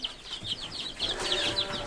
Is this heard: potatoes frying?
no